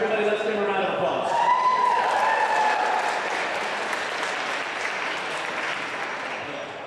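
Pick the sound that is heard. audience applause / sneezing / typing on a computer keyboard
audience applause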